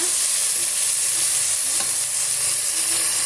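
Two large chopped tomatoes sauté in a pan for kuska, giving a loud, continuous close-up sizzle with faint stirring underneath and no voices.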